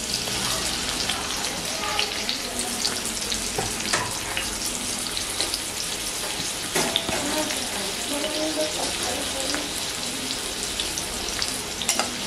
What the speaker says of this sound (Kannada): ಸೊ ಈರುಳ್ಳಿ ಆಡ್ ಮಾಡ್ತೀನಿ.